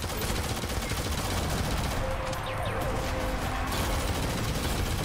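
Dense, continuous gunfire and blasts from Shadowgun Legends PvP combat, with rocket launcher fire mixed into rapid shooting and mechanical clatter, loud and unbroken throughout with no clear speech.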